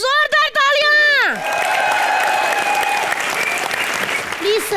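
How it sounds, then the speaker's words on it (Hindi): A falling musical stinger opens, then the studio audience of the Hindi TV comedy show Comedy Nights Live breaks into loud, sustained applause with a crowd murmur, which carries on to the end. "एक बार जोरदार तालियां"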